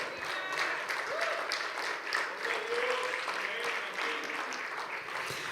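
Church congregation applauding steadily throughout, a dense even patter of many hands at moderate level, with faint voices and a few shouts mixed in.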